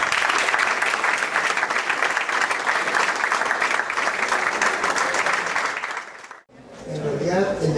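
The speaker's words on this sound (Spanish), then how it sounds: "lo despedimos con un fuerte aplauso." A conference audience at a sports development event in Peru claps loudly and steadily for several seconds, a dense roomful of applause that cuts off abruptly before a voice begins speaking.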